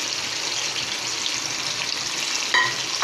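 Chicken karahi frying in a pan after spiced yogurt goes in, a steady loud hiss running throughout, with a sharper clink of a utensil near the end.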